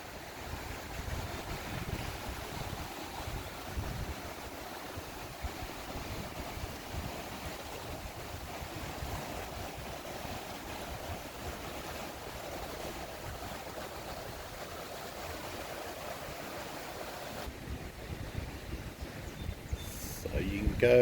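Steady rushing water of the high, fast-flowing Oconaluftee River in the Smokies roars close by, a continuous turbulent wash with some wind buffeting the microphone, unbroken for the whole stretch.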